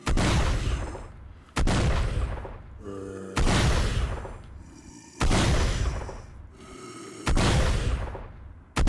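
Sentry turret in the Minecraft Scorched Guns 2 mod, fitted with a damage module, firing at mobs: four loud, sharp booming shots spaced about two seconds apart, each with a decaying tail, with fainter clicks and tones between them.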